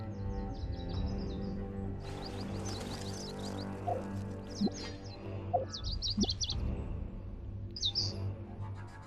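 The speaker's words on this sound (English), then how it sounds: "But at least we have a little bird friend." Small birds chirp in the video game Genshin Impact, with short bright tweets recurring in clusters over steady in-game music and ambience.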